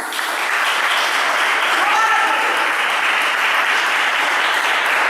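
Church congregation applauding during a sermon, a dense, continuous wash of clapping from many people that stays loud and steady throughout, with a faint voice briefly rising above it midway.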